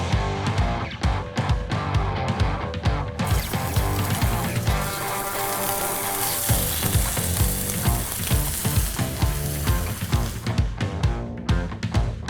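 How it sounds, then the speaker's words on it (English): Burger patties cooking on a grill hiss and sizzle steadily, swelling louder in the middle, under a rhythmic, pulsing beat of background music. "when you start cooking those burgers on the grill"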